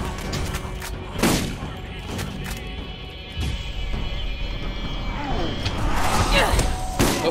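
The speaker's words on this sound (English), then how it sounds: "he has a gun that he's using right now" Enemy gunfire in the Borderlands game, a run of sharp shots and thuds scattered across several seconds amid game noise, with a few louder bursts near the start and end.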